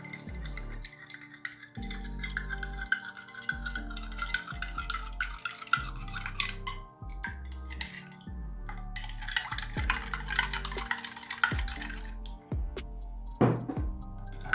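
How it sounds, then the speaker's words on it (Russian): Spoon stirring heaped teaspoons of baking soda into water in a glass, a steady run of scraping, clinking strokes close by with no talk. "Тщательно перемешиваем, чтобы сода растворилась."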